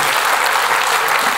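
Audience applause fills a hall during a women's club show, dense, loud clapping from many hands, steady and unbroken throughout.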